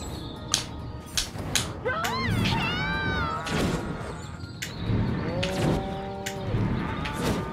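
Cattle mooing in the Destroy All Humans! video game, a few drawn-out moos rising and falling over busy game ambience, with scattered thumps and crashes around them.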